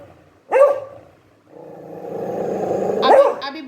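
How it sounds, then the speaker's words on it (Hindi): A dog being fed barks sharply, then growls low and steadily for a couple of seconds before barking again, with a quick yip after. The sounds are close and loud. "ए गंदा डॉगी। तो खाओ खाओ चलो।"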